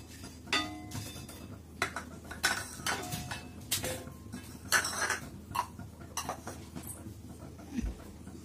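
Dry red chillies, black pepper, cloves and cardamom being roasted in a pan for Odisha dalma, with scattered sharp clinks and scrapes of a utensil against metal at an uneven pace, fairly close.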